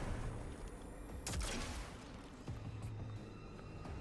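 A single crisp weapon shot in Destiny 2 during a Sepulcher Lost Sector run, one sharp burst mid-clip over a low steady game ambience, followed by fainter thuds.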